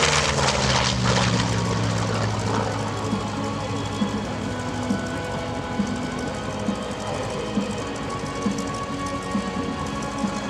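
An F4U Corsair propeller warbird makes a high-speed pass at the EAA AirVenture air show. Its engine roars loudly and drops in pitch as it goes by, then settles into a steady, continuous drone.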